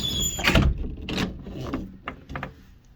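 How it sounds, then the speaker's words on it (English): A cruise ship cabin door on the Wonder of the Seas opens with a few noisy creaks, thumps and rubbing clicks, close by and fairly loud over a quiet room. "Door's a little noisy."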